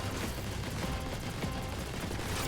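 Sci-fi weapon fire in Transformers: War for Cybertron forms a steady, dense wash of rapid shots, fairly distant and continuous with no pauses.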